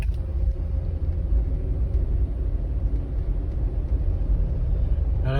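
Steady low engine rumble from a Jeep Wrangler driven at low RPM, showing a low RPM hesitation issue. The drone is continuous and fairly loud for the whole stretch, with no talk over it.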